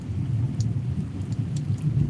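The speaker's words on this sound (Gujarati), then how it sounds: "વરસાદ ભૂકા કાઢે છે જાળિયામાં" Heavy, steady monsoon-style downpour in Jaliya village, Gujarat, roars with a deep thunder rumble rolling underneath, continuous and close throughout.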